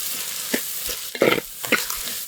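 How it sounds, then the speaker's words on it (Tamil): Ginger and garlic paste sautéing in a pan for a pirandai rock-salt kuzhambu, a soft steady sizzle with several sharp scrapes and stirring clatters, close and moderately loud, no talk. "நல்லா இஞ்சி பூண்டு எல்லாமே நம்ம சூப்பராக வதங்கிடுச்சுங்க"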